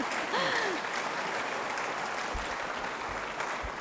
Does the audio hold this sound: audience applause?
yes